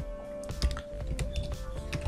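Quick bursts of keystrokes on a computer keyboard as Ajax code for a PHP live search is typed, close, dense clacking with some heavier thumps, continuous for the whole moment.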